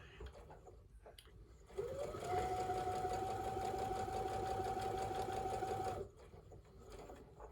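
A sewing machine stitches a quilt block in one steady, fast run of about four seconds, a close buzzing whir that starts and stops abruptly against a quiet room.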